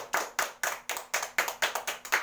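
Nine or so evenly spaced hand claps at a brisk, steady rhythm during an Islamic religious education lesson recorded at home, crisp but fairly quiet, with no voices.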